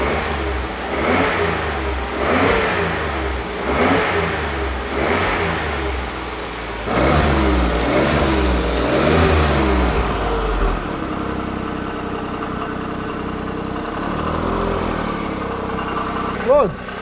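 A Smart car engine with its exhaust removed revs in repeated rhythmic bursts, then settles into a lower idle; voices murmur faintly in the background.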